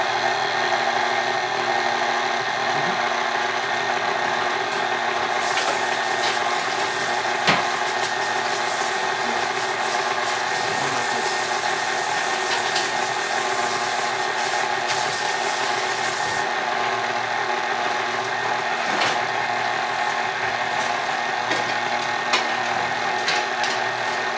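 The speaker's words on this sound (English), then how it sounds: "We're gonna mix on medium for the next few minutes, just until this dough comes together." A stand mixer runs at medium speed kneading dough, giving a steady continuous motor hum and whir with occasional faint knocks, loud and unbroken throughout with no talking.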